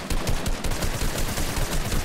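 Dense, continuous automatic gunfire in a Fortnite match, loud and close with rapid overlapping shots and no talk over it.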